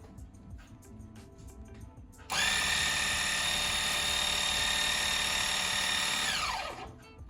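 A scroll saw working on wood in an indoor workshop with a shop vac attached. After faint background noise, a loud, steady, high motor whine starts abruptly, holds for several seconds, then winds down at the end.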